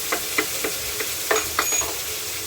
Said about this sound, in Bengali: তার সাথে ভালো করে ভাজতে হবে